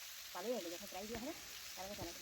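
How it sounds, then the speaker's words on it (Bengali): Small mola fish frying in hot oil in a home kitchen, a steady soft sizzling hiss running under a voice talking throughout. "তো গরম হয়ে গেছে, দিয়ে দিলাম আমি ছোট মোরলা মাছ।"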